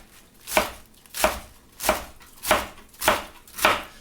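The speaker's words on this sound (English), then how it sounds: "Take the lettuce and you're just going to kind of chop" A knife chops lettuce against a board in six evenly spaced strokes, each a crisp close crunch followed by a short pause, with no talking.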